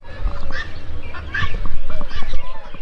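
Ducks and peacocks in a zoo enclosure at Peshawar Zoo in Pakistan, honking and quacking calls rising over a steady crowd murmur, with people talking nearby.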